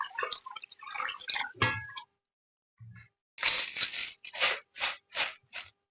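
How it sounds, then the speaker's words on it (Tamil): Water poured over palm tubers in a pot splashes in a few short bursts: a quick trickle, a pause, then a run of distinct pours and sloshes, close and fairly quiet. "கிழங்கு வேகிறதுக்கு தக்க தண்ணி ஊற்றிடலாம்."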